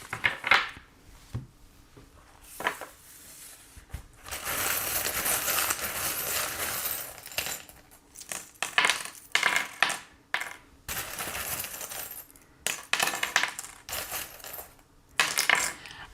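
Small divination charms are cast and dropped onto a surface, giving bursts of clinking, rattling metal pieces scattering and settling, separated by short quiet pauses, close and fairly clear.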